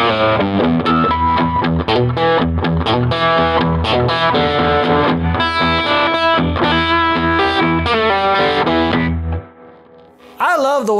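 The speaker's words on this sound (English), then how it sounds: "I love the way that reverb and that tremolo and that gain just sort of collide in just a swampy mess" A distorted electric guitar plays through a Gibson Falcon amp thick with reverb, pulsing tremolo and gain, loud and continuous, with a brief dip and a swell of effects near the end.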